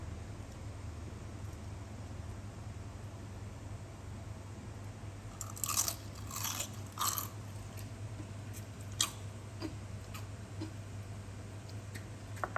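Crispy fried Thai khanom jeeb dumplings being bitten and chewed, a few crunchy bites in a short cluster over a steady low hum, close and fairly quiet, with no talking.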